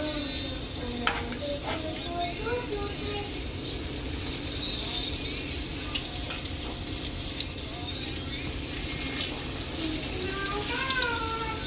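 Breaded chicken frying in very hot oil, a steady close sizzle with bubbling crackle running throughout while a person talks over it.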